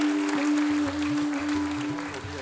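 Audience applause at a ceremony honouring decorated soldiers and war widows, a steady wash of clapping over a sustained hum, continuing evenly for a few seconds.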